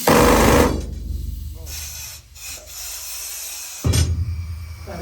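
A loud pneumatic rock drill blasts in heavy hissing, hammering bursts, cutting off and restarting, with harsh echoing noise in an enclosed gold mine stope.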